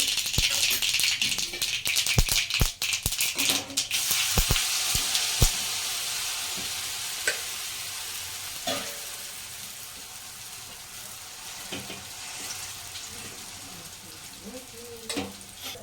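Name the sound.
bottle gourd handvo with sesame sizzling in a kadai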